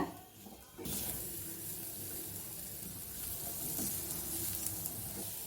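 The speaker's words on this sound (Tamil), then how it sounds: "நம்ம வந்து இந்த வெங்காயம் வதக்குறோம் இதுதான் கடைசி ஸ்டெப்பு" Onions sautéing in coconut oil in a clay pot: a brief quieter moment, then a steady, broad sizzle that holds evenly at moderate loudness, close by with no speech.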